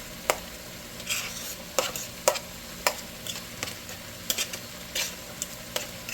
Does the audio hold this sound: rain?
no